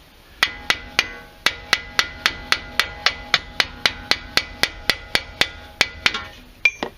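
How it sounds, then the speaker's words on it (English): Hammer tapping on a ball joint bolt during front lower ball joint replacement on a Mercedes W163 ML320, about twenty sharp metallic strikes in a steady, even rhythm, close and clear with no talking. "I'm just going to unwind that bolt, tapping on it"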